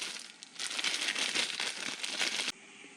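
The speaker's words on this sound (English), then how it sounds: "Let's pull it out. Wrapped up in a plastic bag." A printed calculator manual is drawn out of a plastic bag, a loud close crinkling rustle for about two seconds that stops abruptly, leaving a faint hiss.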